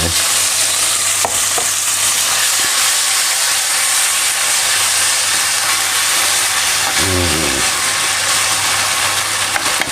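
Chopped fermented fish, pla ra made from small gourami, sizzles steadily in a hot pan while being stir-fried, with a continuous loud hiss and occasional scraping of the stirring utensil.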